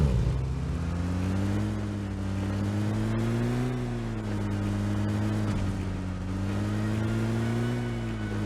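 Vehicle engine in the PUBG video game pulling away, a steady droning motor with harmonic bands that rise and dip as it revs, loud and continuous throughout.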